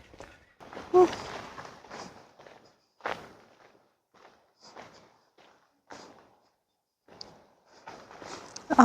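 Footsteps on an outdoor path, walking at an uneven pace. The crunching steps are soft and spaced apart against near silence, with an occasional louder thump.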